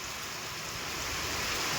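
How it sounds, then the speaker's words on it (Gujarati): Steady, dense roar of heavy rain pouring down, constant and loud throughout with no voices. "એવો વરસાદ આવે છે"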